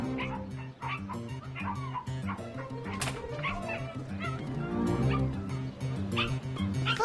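Newborn puppies yip and whimper in a busy, overlapping chorus of high cries, close by, with some background sound mixed in.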